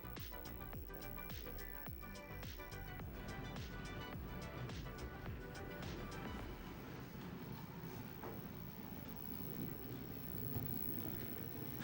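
A small model LNER J70 tram locomotive hauling freight wagons up an incline rumbles steadily with rhythmic clicking of wheels over rail joints, a continuous mechanical hum running throughout at moderate volume.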